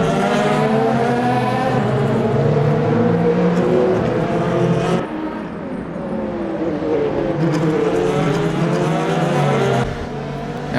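Race cars in the 24 Hours of Le Mans in Le Mans Ultimate, including a GT3 Mustang, roar continuously close by with layered engine tones that rise and fall as cars pass, a brief dip near the middle.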